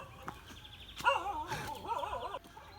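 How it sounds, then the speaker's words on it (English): Dog objecting to a visitor on stone steps leading into woods near Amed, Bali, giving a few sharp yips and whining, wavering whimpers at moderate distance, with faint birds in the background. "there's always a dog that objects to your presence"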